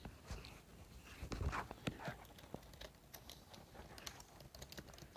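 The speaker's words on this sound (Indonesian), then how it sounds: "Ketik saja" Steady typing on a computer keyboard while entering a database insert command, rapid close clicks in uneven bursts, with no talk over them.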